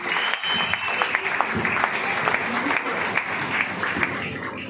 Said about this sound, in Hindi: पूरा मैम जी के एक बार जोरदार तालियां होनी चाहिए